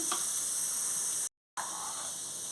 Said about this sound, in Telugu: ఇదే ఆయిల్లోని దోసకాయ ముక్కలు రెండు తీసుకున్నాను రెండు దోసకాయలు తీసుకున్నాను అవి తొక్క తీసి చిన్న చిన్న ముక్కలు కట్ చేసుకున్నాను ఇవి ఇదే ఆయిల్లోని మనం ఫ్రై చేసుకోవాలి